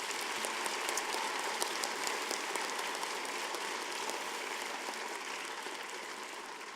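A convocation audience claps steadily in a large hall, dense applause that holds evenly and fades slightly toward the end, with no talking over it.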